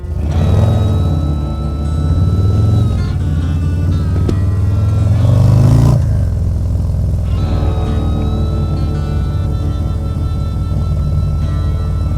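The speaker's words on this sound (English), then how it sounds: "The exhaust is surprisingly not too loud when you're actually on the bike." Loud, steady drone of a 2023 Harley-Davidson Low Rider ST's engine and exhaust heard from the rider's position, with rising and falling pitch as it shifts and rides on, plus wind rush.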